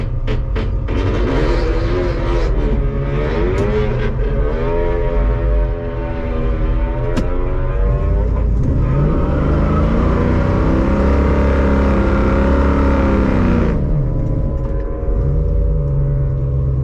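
A 1972 Ford Maverick doing a burnout at the race track: a loud, sustained engine roar with rising and falling revs, close and continuous, no voices.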